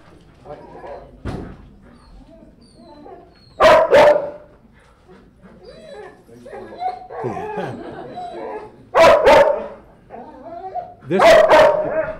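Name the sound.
police K-9 dogs barking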